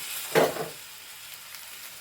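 A short burst of hissing sizzle as boiling water is poured into a hot pan of pickle, fading quickly to a quiet simmer; no voices.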